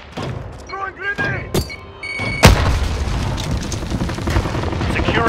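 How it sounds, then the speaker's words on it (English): A grenade blast in Call of Duty Modern Warfare multiplayer lands as a loud boom mid-clip, followed by rumbling battle noise and scattered gunfire, with brief radio-style chatter and beeps beforehand. "Throwing grenade!"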